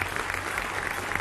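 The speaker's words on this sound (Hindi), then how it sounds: "तालियों के साथ स्वागत कीजिए।" A studio audience at a Hindi political debate applauds a panelist's arrival with a short, steady burst of clapping.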